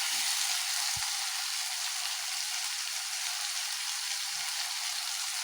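Hotel-style mushroom masala fries in a pan with a steady, even sizzle throughout, broken by a couple of soft low knocks, with no talking.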